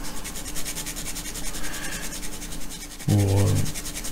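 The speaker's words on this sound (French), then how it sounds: "Après, j'y mets un petit coup de lime là." Steady, rhythmic rasping of a hand file worked back and forth on a part of a Bounty Royal Navy ship model kit, close and continuous, with a brief voice near the end.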